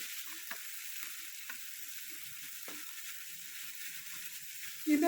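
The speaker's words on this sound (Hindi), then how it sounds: "कीमे को हम हल्का सा फ्राई कर लेंगे ताकि इसकी स्मेल वगैरह ख़त्म हो जाए" Minced meat (qeema) frying in oil in a kadai, a steady, close hiss of sizzling with a few soft stirring knocks and a louder scrape at the end, no talking over it.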